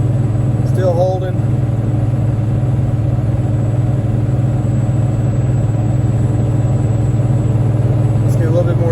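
A Cummins-swapped Ford truck hauls hay at 40% throttle and about 2,200 RPM with 25 pounds of boost, a loud, constant diesel drone heard from inside the cab, with brief faint chirps at the start and end.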